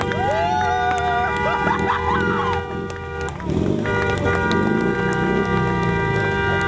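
A welcoming crowd of friends cheers and applauds expedition members returning home to Ivano-Frankivsk after a Dnieper-to-Baikal journey, with shouts, whoops and excited chatter, and a steady tonal hum running underneath.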